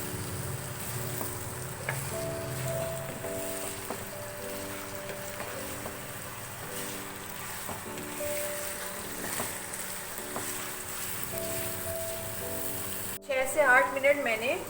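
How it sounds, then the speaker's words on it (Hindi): Mutton for a karahi fries in a pot over high flame, a steady broad sizzle running almost continuously, with a faint voice and other kitchen sounds underneath and a brief louder clatter at the very end. "गोश्त को फ्राई करेंगे।"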